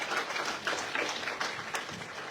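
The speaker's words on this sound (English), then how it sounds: "please, can we give all 8 contestants another round of applause?" An audience at a Miss Samoa pageant gives the eight contestants a round of applause, a soft, distant patter of many hands that stays fairly even and muted for the whole stretch.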